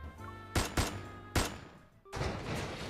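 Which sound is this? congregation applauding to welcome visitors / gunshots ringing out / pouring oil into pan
gunshots ringing out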